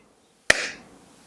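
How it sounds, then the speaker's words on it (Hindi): A single sharp hand clap from a hypnotist ending a trance, loud and close, ringing briefly into a quiet room. "जैसे ही मैं ताली बजाऊंगा, आप इस अवस्था से बाहर आ जाएंगे।"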